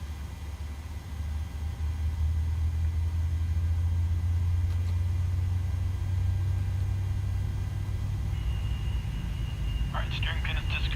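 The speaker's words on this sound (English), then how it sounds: "engine's coming up. Hopefully you can hear that." Boeing 737 engines spooling up in Microsoft Flight Simulator 2020, a steady low rumble and hum that stays loud throughout, with a faint electronic tone and brief chirps near the end.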